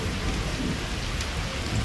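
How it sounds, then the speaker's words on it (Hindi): A brief stretch of torrential rain in Islamabad beating on a flooded lawn, a loud, even wash of noise with no distinct thunderclap and no voices. "बहुत ज़बरदस्त बारिश है जी"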